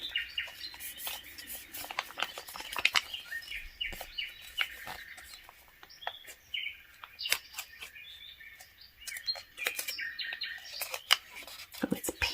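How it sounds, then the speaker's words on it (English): Chirping birdsong with many quick high tweets and short calls, fairly faint and continuous, with no talking over it. "last week I think I forgot to get the birds singing"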